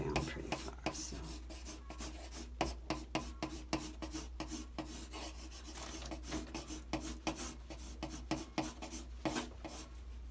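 Graphite pencil strokes rasp and rub across paper while hair is being sketched, a close, steady run of short scratchy passes with brief pauses between them.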